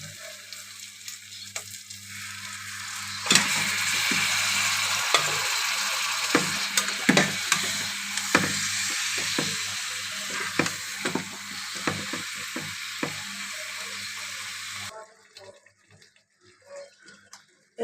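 Chicken pieces sizzle and crackle in hot oil with browned spices in a home kitchen pan, a steady loud fry broken by frequent scraping stirs from a spatula, dropping to a faint hiss at the end.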